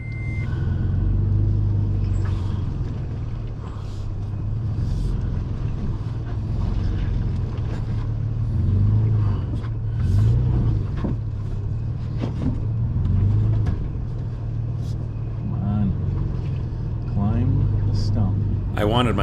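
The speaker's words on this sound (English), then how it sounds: "I wanted my driver wheel to climb over the stump so that I didn't get hung up on it." A Toyota FJ Cruiser crawls over a large tree stump on a two-track trail at Elbe Hills OHV, Washington. A low engine rumble swells and eases as it climbs, with wind buffeting the microphone and some background noise.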